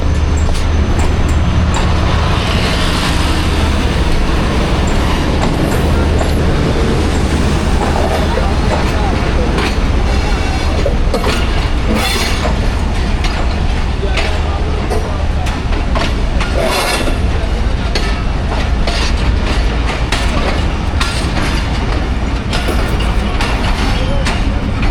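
The Rehman Baba Express locomotive at Faisalabad station gives a loud continuous rumble with rail and engine noise throughout, mixed with scattered clatter and background station activity.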